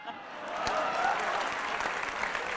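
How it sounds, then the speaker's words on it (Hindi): A short burst of applause from an audience, many hands clapping steadily at moderate volume. "तालियां हर लाइन पर ही बजती रहीं"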